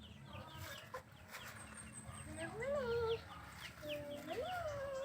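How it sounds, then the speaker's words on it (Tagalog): Several chickens cluck and croon nearby in a rural Philippine province, with rising, drawn-out calls over a busy outdoor background of faint chatter. "Ayan, tignan niyo mga manok diba?"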